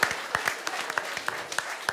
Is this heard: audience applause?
yes